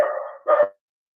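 Small dogs give a short burst of barking, two close yaps with a brief pause between them, fairly loud and near, with no voices over them.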